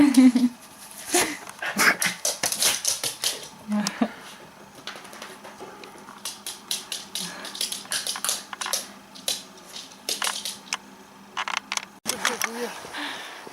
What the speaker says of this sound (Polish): To ta Zuzinka, pies trzyłapny